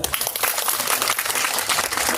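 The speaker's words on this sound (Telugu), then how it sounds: "నిజంగా నచ్చిన చప్పట్లు కొడతారు కదా" An audience applauds at a village gathering, a dense continuous clapping at moderate loudness, brief and steady throughout.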